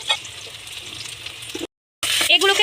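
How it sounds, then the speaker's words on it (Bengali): Whole garam masala spices fry in hot oil for a country chicken curry, a steady close sizzle that stops abruptly, then returns brighter and more crackly after a short gap. "এতে আমি গরম মশলাগুলো দিয়ে দিব"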